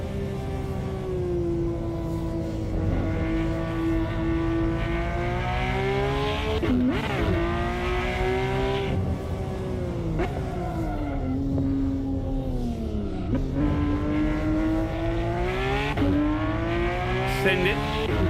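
An orange Porsche GT3 RS races in Assetto Corsa, its engine and exhaust droning loud and continuous as the pitch climbs through the revs and drops sharply at each gear shift, with brief tire squeal.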